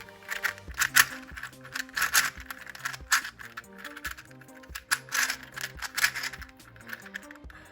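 A 3x3 shape mod puzzle cube, unsanded, being turned by hand: dense, continuous plastic clicking and rattling with bursts of rapid turns and brief pauses, close and moderately loud, no talking.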